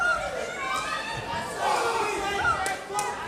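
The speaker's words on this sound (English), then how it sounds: "You can hear the crowd also shouting, Yes. telling him that he should kick." A kickboxing fight-night crowd in an arena roars and shouts continuously, a dense wash of voices that swells and dips with occasional sharp thuds.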